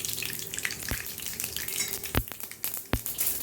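Mustard seeds crackle in hot oil as an egg pepper gravy gets started, with a steady frying sizzle and a few sharp, isolated pops spaced out over a few seconds.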